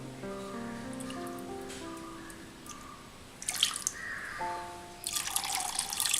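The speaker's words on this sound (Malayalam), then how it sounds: "ഇനി ഇതിലേക്ക് വെള്ളം ഒഴിച്ചെടുക്കാം" Water pours into curd in a mixer jar for buttermilk, heard as soft trickling and dripping with a brief louder splash near the end.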